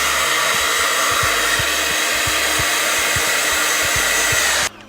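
A hair dryer blows steadily while it dries paint on a handmade card, a loud constant whooshing hum that stops abruptly near the end.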